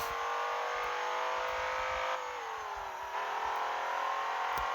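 A modified BMW M5 engine in the racing game Assetto Corsa drones steadily at high revs, pitch dipping briefly as it shifts and then climbing again, a continuous loud whine with no talking.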